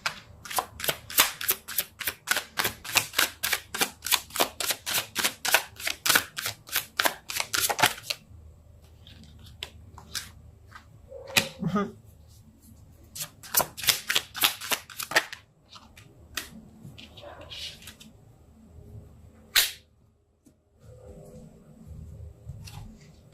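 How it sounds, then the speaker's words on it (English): Tarot cards are shuffled in two bursts of rapid, crisp riffling flicks close by, separated by quieter handling and the soft slaps of cards being pulled and laid down, with no talking. "I'm going to pull some more cards and see what else the story has to say."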